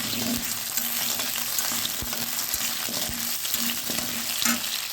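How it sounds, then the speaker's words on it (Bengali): Potatoes fry in hot oil in a pan, giving a steady close sizzle with crackles and occasional stirring knocks, and no talk over it. "তেল গরম হয়ে গেছে, আলু ভাজবো এবারে।"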